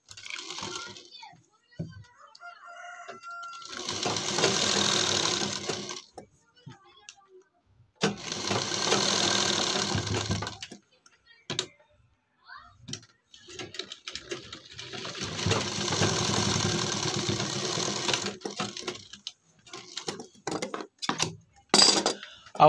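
Bursts of sewing machine stitching attach a half collar to a kurti, three main runs separated by pauses with small handling clicks and rustles.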